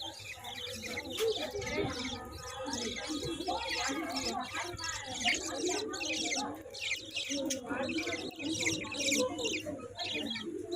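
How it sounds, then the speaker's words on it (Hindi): Chirping of small parrots indoors at a shopping mall, a busy continuous twitter of many birds with some cooing, heard over mall ambience while people talk. "यहाँ पर हम आए थे मॉल में, तो यहाँ पर इस तरीके से बहुत ही छोटे छोटे पैरोट"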